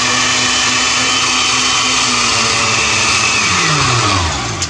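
A Welbilt blender runs on its mix setting with a loud, steady, close-up motor whir that holds constant and then starts to wind down at the very end, with no talking.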